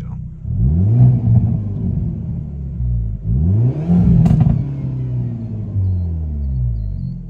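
A Hyundai Elantra N's engine and exhaust rev hard twice, each climbing to a loud roar and falling back, then settles into a deep burbling idle, recorded close at night.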